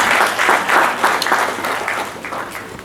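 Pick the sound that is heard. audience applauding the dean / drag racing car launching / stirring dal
audience applauding the dean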